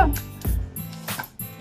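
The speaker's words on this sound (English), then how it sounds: "It's my dog." Close, loud yips and short barks from a dog, with high whimpers mixed between them, in a few uneven bursts.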